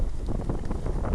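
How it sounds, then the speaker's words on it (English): Steady, blustery wind buffets the microphone, a continuous low rumble with gusty swells and no voices. "Boy, it's windy out here"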